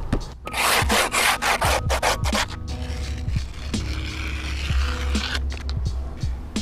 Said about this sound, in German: werden wir das Grip Tape auf diese Seite machen